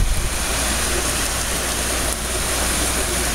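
Heavy rain pours down steadily outdoors at night, a loud, dense, continuous wash of noise with no voices over it.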